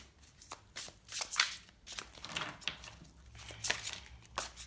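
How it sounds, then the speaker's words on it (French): Oracle cards shuffled and drawn by hand, a run of soft riffling and slapping bursts at close range, irregular and fairly quiet. "Je vais prendre une petite carte de conseil"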